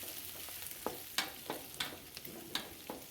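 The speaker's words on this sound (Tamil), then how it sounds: "ஸோ இப்போ நான் ஆனியனை போட்டுக்கிறேன். நல்லா வதக்கி விடுங்க." Onions sauté in oil with cinnamon, cloves, pepper and cardamom for mutton liver fry, a soft sizzle broken by several distinct spatula scrapes and clinks against the pan, fairly quiet and without speech.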